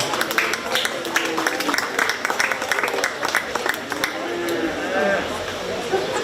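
A crowd at a 4-H cattle show at a county fair gives steady, moderately loud applause for the exhibitors, with an announcer's voice and crowd murmur mixed in throughout.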